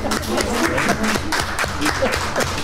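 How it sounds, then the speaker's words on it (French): An audience at a lecture on Eastern and Western liturgies bursts into steady applause, dense, continuous clapping from a hall full of people, close and loud throughout, with a voice faintly audible under it. "on peut l'applaudir"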